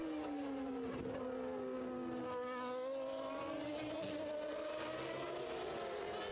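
A McLaren Formula 1 car driven by Brundle races on the track at Imola in 1994. The high engine whine sweeps through the gears and falls as the car passes, heard fairly faintly.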